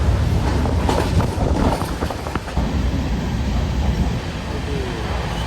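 A passenger train runs along the line near Barkur, a steady low rumble and rattle heard from on board, with some clacking early on and a continuous roar throughout.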